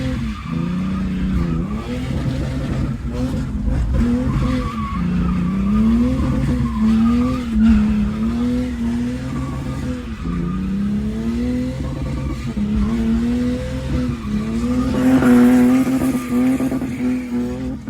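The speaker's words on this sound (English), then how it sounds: "drift practice at the Haynes." A drift car skids through a practice session, its engine revving hard while the tires squeal and whine in long wavering sweeps, loud and close, continuing throughout with no talk.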